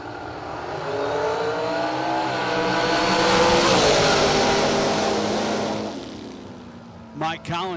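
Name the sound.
drag racing dragsters accelerating down the strip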